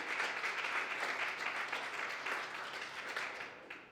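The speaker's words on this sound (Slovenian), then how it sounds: "Dajmo jim še en aplavz." An audience applauds a cycling team at a season presentation, a steady wash of many hands clapping that holds for several seconds before tapering slightly, with no voices over it.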